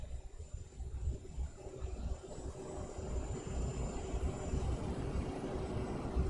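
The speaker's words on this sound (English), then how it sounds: "Graham, Burnus, you hear the airplane here behind me?" Simulated CRJ 700 jet engines from a flight simulator game drone steadily at low volume behind a room, a continuous rumbling hum with a faint high whine and no voices.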